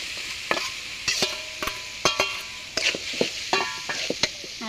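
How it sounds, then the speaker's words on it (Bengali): Fried potatoes are stirred into a sautéed singara filling in a pan. A spatula scrapes and clinks in a loose, repeated rhythm over a soft, steady sizzle, heard close and fairly quiet. "আমি আর একটু কষিয়ে পরে আলুগুলো দিয়ে দিচ্ছি।"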